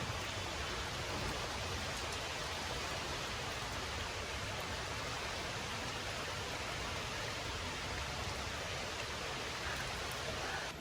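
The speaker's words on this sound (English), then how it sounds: "And it started raining heavily." Heavy rain falls outside over a garden, a dense, even hiss of steady downpour that holds at the same level throughout.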